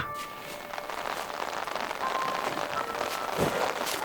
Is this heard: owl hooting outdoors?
no